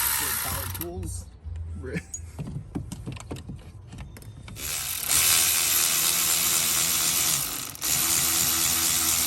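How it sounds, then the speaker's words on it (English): A power tool whirs loudly and steadily in the second half while replacing valve cover gaskets on a 2004 Chevy Silverado, preceded by clicking, ratcheting mechanical sounds with people talking. "Thank God. Power tools."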